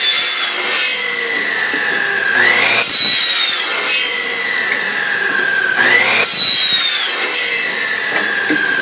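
A saw cuts through wood in long, rhythmic strokes, its pitch rising and falling with each pass; loud and close, no talking.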